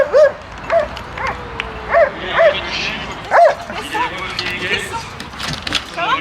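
A large fire brigade search dog barks and yips in short repeated bursts with some whimpering, close and moderately loud, while people talk over and between the barks.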